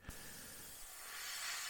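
An airbrush sprays paint onto a Revell 1/48 PBY-5 Catalina model: a steady, soft hiss held close and quiet for nearly two seconds, swelling slightly toward the end.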